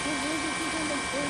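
An NHK news helicopter hovers over Sendai during a tsunami, its steady droning rotor and engine noise filling the whole brief moment loudly, with a voice talking over it.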